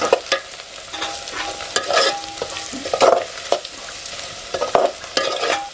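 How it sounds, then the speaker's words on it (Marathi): Masala spices sauté in a pan over a wood-fired village stove, a close, continuous sizzle broken by frequent scraping stirs and clattering strokes of the spoon. "मसाला चांगला एकदम परतून घेऊया हो"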